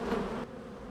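Savoie black honeybees hum around a hive in a steady buzzing drone that is louder at first and then drops to a softer level partway through.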